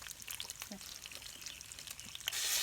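Bacon sizzles in hot grease in a Lodge cast iron skillet, a steady crackling hiss with small pops that swells louder near the end, heard close up without talk.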